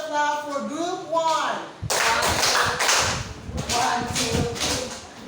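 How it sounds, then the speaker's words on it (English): A school class does a rhythmic group clap for a presenting group in a science classroom, loud bursts of sharp claps with voices and cheering mixed in after an opening stretch of speech. "please give a Mama Janisha clap for group 1"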